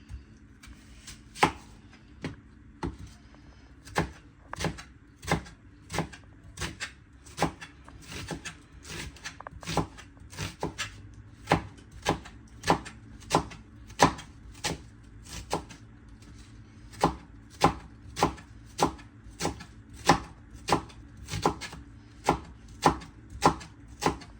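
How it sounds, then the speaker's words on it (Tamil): A knife chops onions on a board for fish fry, making dozens of crisp, evenly spaced thuds that build from a slower start into a quick, steady rhythm, close and clear with no talking. "வெங்காயத்தை கட் பண்ணி எடுத்துட்டு"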